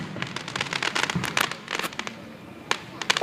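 Fireworks burst outdoors in a rapid series of sharp cracks and crackling pops, loud and dense, with a brief pause before more bangs.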